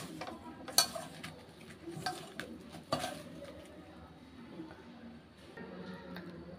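Ground vermicelli being hand-mixed with powdered sugar in a bowl: soft, steady stirring and scraping with a few sharper clinks of a utensil against the dish, close and fairly quiet, with no talking.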